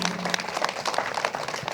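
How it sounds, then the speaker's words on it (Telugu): An audience claps in dense, even applause at a gathering, a steady wash of many hands from start to end with no single voice standing out. "ఆవిడ కోసం గట్టి క్లాప్స్ కొడదాం."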